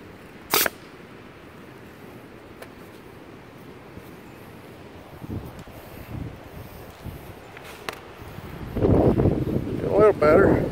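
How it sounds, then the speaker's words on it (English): Gusty wind outdoors buffeting the microphone, a steady low roar that swells louder near the end, with a sharp knock early on and speech faintly mixed in. "Now it's getting windy out here."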